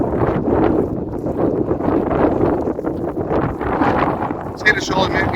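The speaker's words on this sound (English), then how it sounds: "It's a windy old walk to this lighthouse." Strong gusty wind from Storm Babet roars and buffets the microphone on an exposed coastal walk to a lighthouse in the Outer Hebrides, loud and continuous, with a brief clatter near the end.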